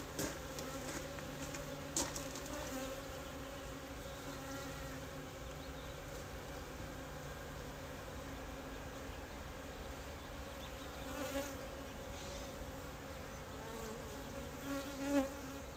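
Honey bees buzzing around a beehive during a February hive inspection, a faint continuous hum with occasional louder passes of individual bees, no voices.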